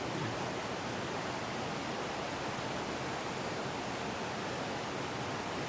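Close, loud, unbroken rush of river water, a dense, full-bodied roar that stays constant from start to finish without pauses or voices.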